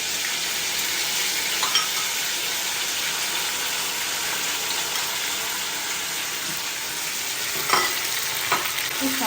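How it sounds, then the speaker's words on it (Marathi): Green chili and coconut paste sautés with curry leaves in a pan for a pomfret green tikhle curry, a dense, even hiss of frying broken by a few soft stirring scrapes; no one speaks. "परतून घेऊया आपण खोबरं कच्च देतो त्यामुळे आपण जरा बऱ्यापैकी चांगलं परतून घेऊया"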